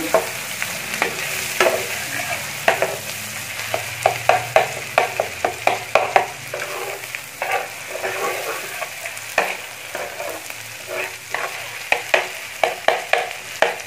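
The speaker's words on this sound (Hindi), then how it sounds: "जो मैंने मगज़ साफ करके रखा हुआ, अब इसके अंदर मैं वो फ्राई करूँगी।" Cleaned goat brain frying with garlic and ginger in a pan, a steady close sizzle broken by repeated scraping stirs of a spoon against the metal, no voices.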